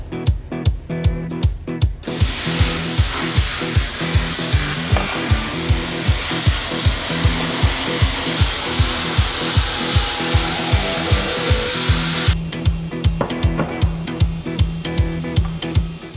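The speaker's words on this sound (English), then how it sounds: "we'll blast this thing in the vapor honing machine and see what it looks like" Vapor honing machine blasting rust off a part from a crashed Piper PA-28-235 airplane: a steady, loud hiss of wet abrasive spray runs for about ten seconds, framed by rapid mechanical clicking and rattling before and after.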